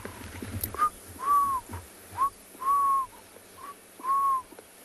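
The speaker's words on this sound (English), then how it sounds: "Hear the Cape turtle doves or the ring-necked doves." Soft, hooting Cape turtle dove or ring-necked dove calls repeat in a steady pattern, three or four mellow phrases rising and falling over a quiet outdoor background at sunrise.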